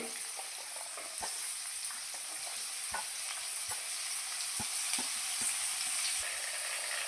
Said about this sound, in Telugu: కొంచెం వేగుతానే ఎర్రగడ్డ వేసుకోవాలండి.